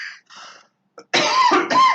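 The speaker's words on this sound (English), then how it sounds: "because I'm coughing" A person coughs a few times in short bursts, close and fairly loud, with brief pauses between the coughs.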